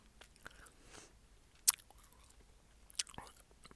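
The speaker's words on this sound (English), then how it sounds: "The sound of chewing, for some reason," Gum chewed close to the microphone in a quiet ASMR setting, with soft, sparse wet mouth clicks and two sharper smacks spread over a few seconds.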